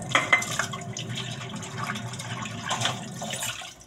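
Water runs steadily from a faucet into a sink during dishwashing, a continuous splashing hiss with small clatters, heard close and moderately loud with no talking.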